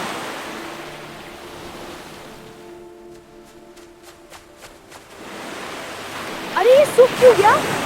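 Sea surf rolls as a steady broadband wash of waves, fairly quiet through the middle and swelling louder near the end, where a voice briefly cuts in over the water.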